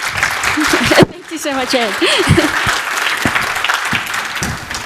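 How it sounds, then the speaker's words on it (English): An audience at a Python meetup applauds speaker Elena with sustained, fairly loud clapping that runs under a voice briefly thanking someone. "Yeah, please give a round of applause to Elena."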